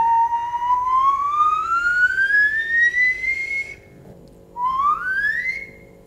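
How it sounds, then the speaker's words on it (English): A person whistles a clear, steady tone that slowly glides upward, pauses, then returns with a shorter rising whistle; close and loud over faint background hum. "so I'll just whistle"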